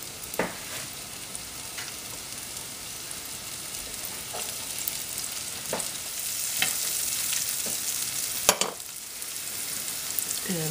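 Chopped onion frying in olive oil on a stovetop, a steady close sizzle with occasional sharp clacks of a utensil stirring through the pan.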